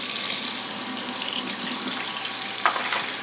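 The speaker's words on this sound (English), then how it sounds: "So hot water. So you start rinsing it off." Hot tap water runs steadily down the barrel of a Pietta Colt 1851 Navy .44 black powder revolver, a continuous close hiss of rinsing with a brief splashy burst near the end.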